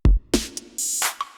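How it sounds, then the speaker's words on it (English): Classic 808 drum kit hits from a Yamaha MU15 sound module follow one another: a deep booming kick, snappy snare and clap, and crisp hissing hi-hats. "I have an 808 drum kit on channel 10 which sounds like this."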